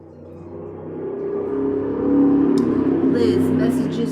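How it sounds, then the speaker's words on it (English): A loud car drives past outdoors, its engine roar swelling and then holding steady as it goes by, heard on its own with no speech. "There was a very cool guy that just went by in a loud car."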